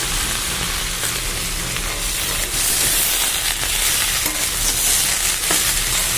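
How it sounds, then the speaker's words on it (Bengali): Malabar spinach added to vegetables already frying in a pan, for a rohu fish-head recipe, gives a loud continuous sizzle and hiss of hot oil with steam, close up and steady throughout. "সবজিটা ভাজা হয়ে গেছে। আর এবারে কিন্তু এই যে পুঁই শাকগুলোকে দিয়ে দিচ্ছি।"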